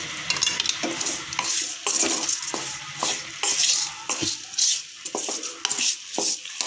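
Salted vegetables, brinjal, drumstick and raw mango, are sautéed in a pan, with a steady close sizzle and regular scraping stir strokes roughly every half second.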